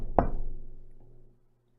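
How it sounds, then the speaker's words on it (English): A single sharp knock on a door, close and clear, with a short ringing decay afterward and no voices. "Finally, Little Dot stopped in front of a rock and knocked on the door."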